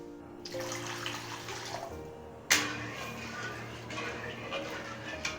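Water poured into a cooking pot while making a sweet, a steady stream with a sharp splash partway through and a faint background hum.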